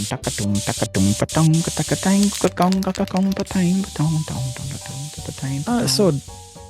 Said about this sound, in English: I'm spraying right along.